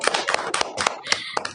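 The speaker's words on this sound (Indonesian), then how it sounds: "Kita boleh kasih tepuk tangan dulu buat kita semua." A small group claps close by, uneven bursts of hand claps with slight pauses, continuing briefly.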